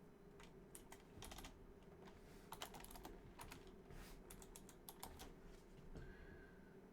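Keys clatter on a computer keyboard during a coding study session, quick irregular bursts of close, quiet clicks with short pauses over a low steady background hum.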